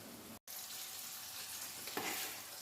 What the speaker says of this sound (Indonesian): Kita goreng sampai habis.